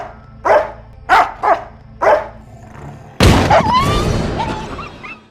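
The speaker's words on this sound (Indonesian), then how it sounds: "Tiba-tiba Abby terbangun dan menyalak dengan keras." A dog barks loudly four times in a regular rhythm, close by, then a sudden booming blast like a gunshot is followed by a yelp and whining cries trailing off.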